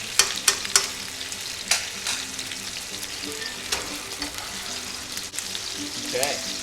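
A steak sizzles steadily in a hot pan while being basted, with a few sharp metallic clinks of a spoon against the pan near the start, all close up and without talk.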